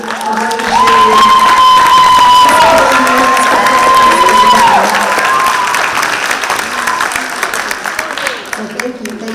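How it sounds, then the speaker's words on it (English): Audience applause and cheering at a winter youth harp concert fill a hall, loud and sustained for several seconds before tapering, with bright voices calling out over the clapping. "I want to give an extra round of applause to our instructors"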